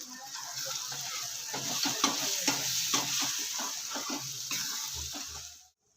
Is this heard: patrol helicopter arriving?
no